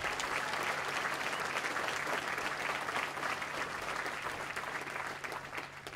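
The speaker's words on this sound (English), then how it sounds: "And another round of applause I'd like for AMC's Color Guard and AMC's band." An audience at a U.S. Army Materiel Command change-of-command ceremony applauds the color guard and the band. The clapping is dense and sustained, fading slightly at the end, with no talking over it.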